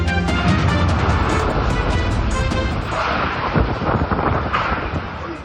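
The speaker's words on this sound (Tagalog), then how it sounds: "Pinadapa na napakalakas na hangin at ulan ng mga bahay at puno sa pagtama ng bagyong Julian sa Basco, Batanes kahapon." Strong super typhoon wind and rain lash Basco, Batanes, a continuous loud roaring rush with gusty bursts, close and unbroken throughout.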